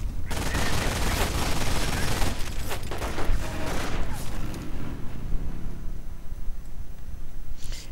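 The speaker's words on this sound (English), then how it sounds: "The MG42 mounted, doing a bit of damage here to the rifleman." Mounted MG42 machine gun in a video game, rapid bursts of gunfire with dense crackling shots over a rumbling battle backdrop, loud and close, fading toward the end.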